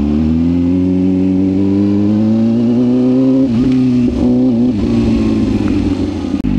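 A CF Moto motorcycle engine revs steadily and loudly up close during a short ride around a parking lot, a strong continuous drone with brief dips and surges in pitch near the middle and a sharp blip at the end.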